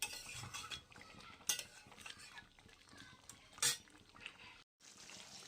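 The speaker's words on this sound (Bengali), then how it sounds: "এখন এই জলটা ভালো করে শুকিয়ে নিয়ে ভালো সুন্দর করে কষিয়ে" A spoon clinks and scrapes through chicken cooking in spice masala as it is stirred to dry out the liquid. There are a few louder knocks and only a faint frying hiss underneath.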